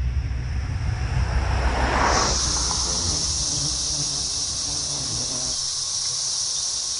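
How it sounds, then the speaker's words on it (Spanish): Periodical cicadas give a loud, dense, continuous buzzing drone that fills the whole stretch, with a shrill whine coming to the fore partway through and holding steady. "Se trata de la cigarra periódica."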